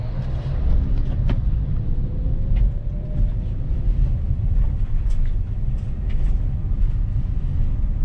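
A Toyota All New Veloz pulls away from a green light, its steady low engine rumble and road noise loud and continuous throughout, with no voices.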